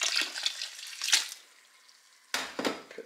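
Water poured into a vermiculite mix for summer black truffle spore inoculation, in two close splashy bursts separated by a quiet pause, with no talking.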